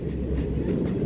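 A train runs on the Kandy–Badulla railway line in Sri Lanka, a steady loud close rumble with faint rhythmic clatter of wheels on rails, no voices.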